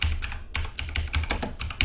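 Rapid keystrokes on a computer keyboard while entering Arduino code, a close, steady burst of clicking taps with short pauses and no voices.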